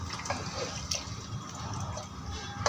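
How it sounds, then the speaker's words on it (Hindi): Water poured from a small bowl into a cooking pot while making batte, a steady splashing, trickling flow that runs close and fairly loud for the whole stretch. "पानी डाल देते हैं, देखिए जिसमें हमने दही ली थी उसी प्याले में हम पानी डाल देंगे।"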